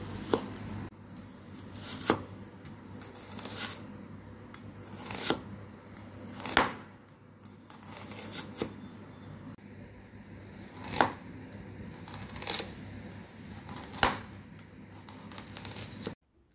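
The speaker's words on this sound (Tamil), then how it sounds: "இப்போது இதுக்கு ஒரு மீடியம் சைஸ் வெங்காயத்தை தின் ஸ்லைஸாக கட் பண்ணி எடுத்துக்கலாம்." A knife slices a medium onion thinly on a board, about ten crisp cuts spaced unevenly, close and fairly quiet with faint background hum and no talking.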